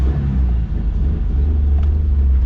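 Low, steady engine rumble of a basic-spec car heard from inside while driving, a continuous droning hum that stays loud and even throughout with no talk over it.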